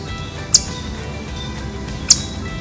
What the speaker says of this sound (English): And lastly is the chipping call.